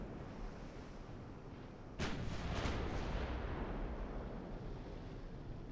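Naval guns firing high-explosive shells in the Ultimate Admiral Dreadnoughts warship game, a sharp booming salvo followed by a second rolling report, both over a steady roar of sea and wind ambience.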